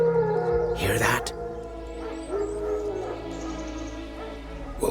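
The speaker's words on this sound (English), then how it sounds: "Wild dogs. Yes. More dangerous than wolves." Wild dogs howl and yelp in The Witcher 3, their drawn-out cries sounding near and loud over a steady ambient bed, with a sharp burst of noise around the first second.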